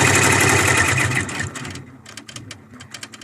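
An embroidery machine stitches a tack-down on a towel, running as a steady mechanical whir for the first half before easing into a lighter rhythmic ticking, close and alone.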